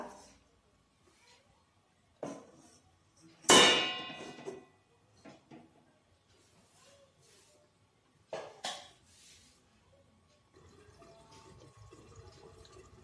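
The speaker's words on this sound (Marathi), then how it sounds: "आता आपण कढईवर झाकण ठेवूया" Metal lid set onto a kadhai of capsicum curry, a sharp clang followed by smaller knocks and clinks in a quiet kitchen, with a faint simmering hiss toward the end.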